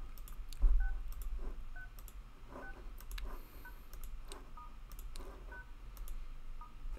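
Telephone keypad tones dialing a star and pound service code on an Android phone, a series of distinct short beeps spaced about a second apart, clear over a quiet background.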